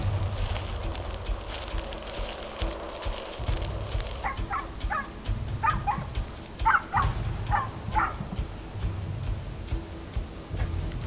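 Hunting dogs on a wild boar drive near Tudela bark repeatedly in a quick run of sharp yelps at middle distance, over outdoor rumble and ticking noise.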